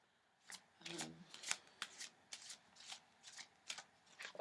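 Tarot cards shuffled by hand, a quiet, close series of crisp riffling bursts repeating at a steady rhythm, about ten in a row, with no talking.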